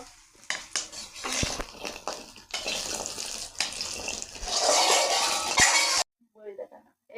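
Bori lentil dumplings frying in a pan, with frequent clatter of a utensil against the pan over a steady background sizzle; someone talks at intervals.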